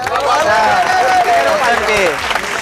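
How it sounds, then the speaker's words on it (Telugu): A college game-show audience claps loudly together, a dense burst of applause from a crowd in a hall, with a voice speaking over it. "ఒకసారి గట్టిగా క్లాప్స్ కొట్టండి"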